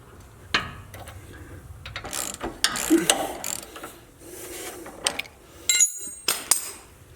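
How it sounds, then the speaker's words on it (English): An 18mm socket on a breaker bar works a nut loose on a Jeep JLU during a lift kit install, giving scattered metallic clicks, clunks and ratcheting clinks in irregular bursts, close by. "I'm going to take an 18mm socket and a breaker bar"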